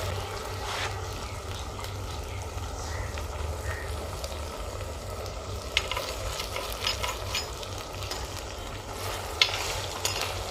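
Ginger garlic paste and green chilies sauté in a pan, a continuous close sizzle broken by a few sharp scrapes and clinks of stirring, and no voices.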